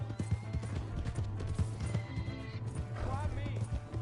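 Horse neighing and galloping in the video game Red Dead Redemption 2: close, repeated hoofbeats with whinnies rising above, mixed with in-game voices talking over the action.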